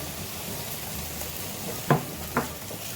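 Constant crackling sizzle of half a kilo of minced meat frying in a pan, with two sharp clacks of a utensil against the pan near the end.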